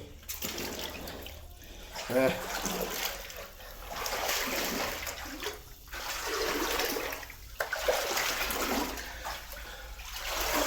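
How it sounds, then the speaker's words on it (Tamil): A long stream in red-earth hills flows steadily, a broad continuous rushing and gurgling of water, close and fairly loud, with a person briefly speaking over it. "இது ஒரு நீண்ட ஓடை"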